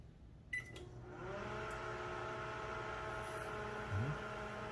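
A microwave oven starts after a click and beep and settles into a steady electrical hum with buzzing harmonics, heard close up while its door switches are being tested.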